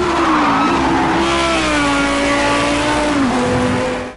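Racing car engines in Project Cars 2 scream loudly and continuously, revving and shifting pitch with tire squeal and skidding layered in, cutting off abruptly at the end.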